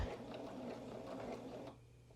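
A sewing machine runs in a steady continuous stitching burst while sewing up a pant seam at an angle with a back stitch, a close mechanical whir that cuts off near the end, no talk.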